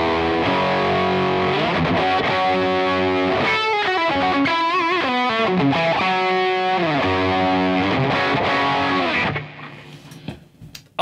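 Distorted electric guitar played through a red British amp, loud and sustained chords and riffs with heavy overdrive, ringing out for several seconds before fading near the end; no talking.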